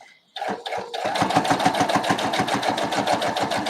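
A sewing machine topstitches along the edge of bias tape: a few short bursts, then a rapid, even stitching rhythm running steadily and close up, with no voices.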